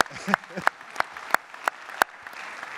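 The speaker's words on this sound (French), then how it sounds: "j'attends vos applaudissements" Audience applause at a union round-table meeting, heard as sparse, evenly spaced sharp claps about three per second over a low room hiss.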